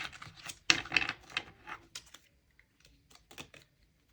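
Tarot cards being shuffled by hand, giving a series of soft, quick riffling and tapping bursts in close, quiet surroundings, with short pauses in between.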